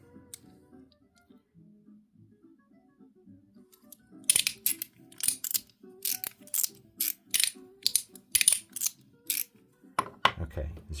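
A titanium mechanical slider fidget from TIVIVA EDC clicks and snaps in a rapid series of sharp, close metallic ratcheting clicks, starting after a quiet stretch with faint handling noise.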